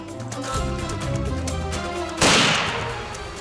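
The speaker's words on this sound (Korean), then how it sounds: "곧바로 두 번째 총소리가 울려 퍼집니다." A rifle gunshot fired near a forest on the Mongolian steppe, hunting a wolf: one sudden loud crack with a broad blast and a fading tail, over steady background sound.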